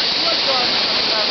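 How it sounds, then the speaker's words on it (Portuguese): Steady, loud, full-bodied roar of a waterfall's rushing water during a bike outing, constant and close throughout with no pauses. "Nossa, essa cachoeira é fantástica."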